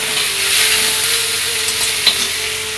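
Potatoes fry in a pan with a steady, loud sizzle and occasional soft stirring noises.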